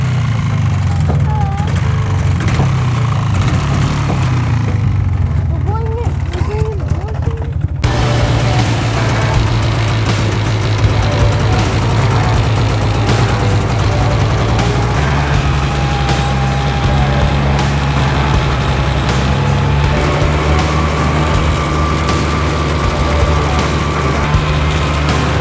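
A four-wheeler engine runs steadily on a ride around the neighborhood, a continuous low rumbling drone that shifts in pitch partway through, with faint wind and a few scattered clicks mixed in.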